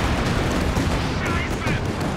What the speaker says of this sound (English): Good light artillery barrage connection